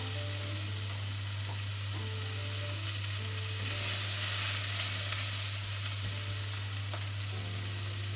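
Onions sizzle and fry in rendered meat fat for a cassoulet, a loud, continuous crackling hiss that swells briefly midway, with a steady low hum underneath and no talking.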